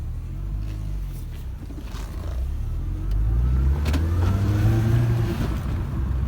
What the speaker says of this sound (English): A short drive, shall we, on this private estate.